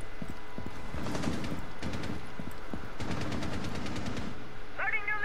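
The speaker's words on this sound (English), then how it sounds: "Good firefight, Ty." Video game firefight with bursts of rapid automatic gunfire and single shots, moderately loud and irregular across the clip, with brief quieter gaps between volleys.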